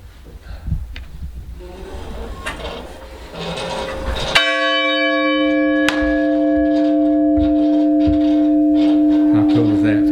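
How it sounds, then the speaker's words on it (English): An old church bell in an abandoned ghost town at Rodney, Mississippi, rung by pulling: after some rustling and movement, one loud clang strikes and then rings on with a long sustained hum, followed by a second, lighter strike. "I had to pull the bell, I really did"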